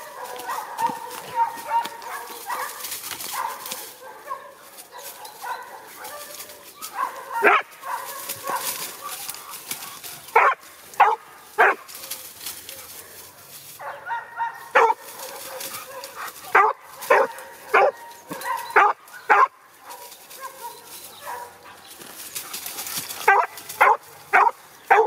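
Hunting dog barking in sharp, repeated bursts while flushing a hare in oak scrubland, loud and close, with rustling movement and a person talking between barks.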